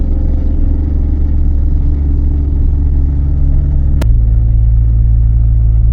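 A car cruises at a steady 34 to 35 km/h on a road between hills in Rajasthan. The engine and road rumble stay continuous and loud and close, and the pitch drops slightly partway through.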